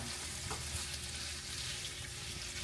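Sausages fry in a pan with a steady, dense sizzle that holds at a constant level throughout. There are no voices.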